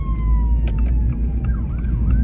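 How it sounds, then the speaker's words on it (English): Siren of a passing fire truck wailing in the distance, a rising and falling tone over steady low traffic rumble, continuous and fairly faint through the whole stretch. "I was hearing like sirens around me."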